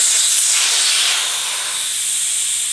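Air hisses out of a bicycle tire tube once the valve stem is pulled. The close, loud, steady rush fades slightly partway through and then continues to the end.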